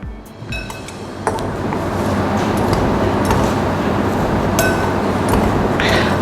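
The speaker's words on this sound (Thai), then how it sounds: "เมื่อเทส่วนผสมทุกอย่างลงไปใน อ่างผสมแล้วนะครับ เราก็จะคนส่วนผสมให้เข้ากันนะครับ" A spoon stirs a dry rice seasoning mixture around a mixing bowl, making a steady, loud scraping rustle. Occasional clinks ring out as the utensil knocks against the bowl's side.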